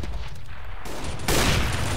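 Counter-Strike: Global Offensive gunfire heard as dense, noisy bursts of shots that swell into a louder, sustained volley, with no talk over it.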